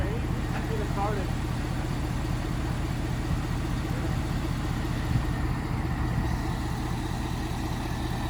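A Ford F350 pickup with a 6.4 Powerstroke diesel idles steadily nearby after starting, a continuous low rhythmic rumble with people talking over it.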